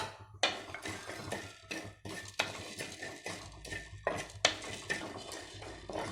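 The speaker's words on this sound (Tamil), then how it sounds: "இந்த மிளகு, சீரகம், சோம்பு இது 3ஐயும் ட்ரையாக வறுத்துக்கணுங்க, எண்ணெய் இல்லாமல் வறுத்துட்டு" Black pepper, cumin and fennel dry roasting in a pan without oil, with a spatula stirring them and making busy metallic scrapes, rattles and clinks in an irregular rhythm, close and fairly loud, with no talking.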